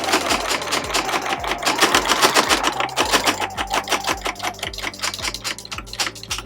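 A sewing machine runs in fast, even bursts of stitching on a zippered pouch, loud and close, with its rapid mechanical clatter pausing briefly before continuing.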